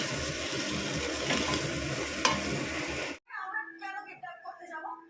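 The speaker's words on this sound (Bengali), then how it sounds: "ভাজছিলাম আলুটাকে এবারে সব মশলা দিয়ে ভালো করে কষাবো" Potatoes frying and being stirred with spices in a pan, a steady loud sizzle with scraping for about three seconds, then cutting off abruptly as a person talks.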